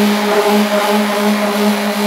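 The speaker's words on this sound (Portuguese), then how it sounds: "dar mais uma batidinha com o mixer" A hand mixer whirring through thick homemade liquid soap made with fabric softener, a loud steady motor whine with a sustained tonal hum, close and uninterrupted, no one speaking.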